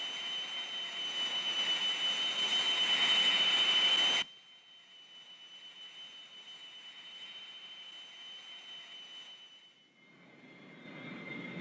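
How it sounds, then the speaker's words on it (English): An Air Force training aircraft flies a power-on stall series, its engine a steady loud roar that suddenly drops to a quieter drone, then rises again toward the end. "All right, Blake, let's see a power on stall series."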